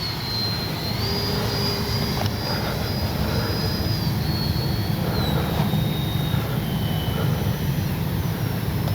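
A Freewing Banshee 64mm electric ducted-fan RC jet roars steadily at close range with a loud, sustained whine whose pitch slowly drifts as the model passes. No one speaks over it.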